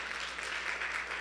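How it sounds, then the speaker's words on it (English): Steady round of applause from a banquet audience at a Christian academy sports banquet, dense even clapping filling the whole short stretch at moderate loudness with no pauses. "I think that's a round of applause."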